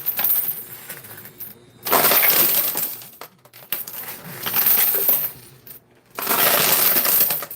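Coins drop and clatter inside a coin pusher arcade machine, with loud bursts of metallic jingling and crashing that come in waves separated by brief quiet gaps, close to the machine.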